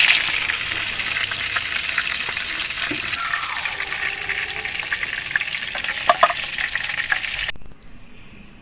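Chapli kababs sizzle steadily in hot oil, a loud, continuous frying hiss with a few clinks near the end before the sound cuts off.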